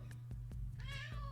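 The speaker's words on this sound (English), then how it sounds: "It's my cat." A house cat meows once, close and clear, its drawn-out call rising over a steady low electrical hum with a few soft knocks before it.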